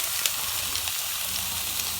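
Vegetables sizzle on a GriddleMaster Go flat top griddle, a steady bright hiss with faint pops and crackles throughout, heard alone without talk.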